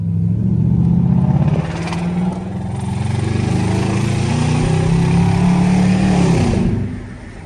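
A nearby car's engine drones loudly and climbs as it speeds up, holding a steady rising pitch before falling away at the end, with no talk.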